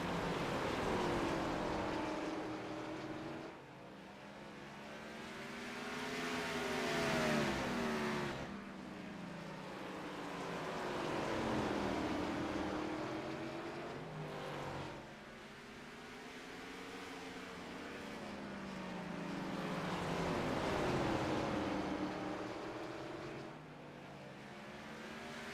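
Stock race cars lapping Martinsville Speedway in a racing game, engines rising and falling in long repeating swells as the pack accelerates out of each corner, steady and fairly faint with no talk.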